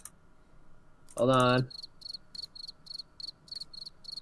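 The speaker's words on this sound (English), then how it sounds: "Them crickets." Crickets chirp in a steady pulsing rhythm, interrupted early by a short loud burst of another sound, then the chirping continues evenly.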